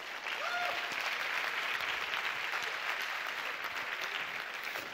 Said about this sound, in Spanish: No sé por qué aplaude, pero qué bueno que aplaudió.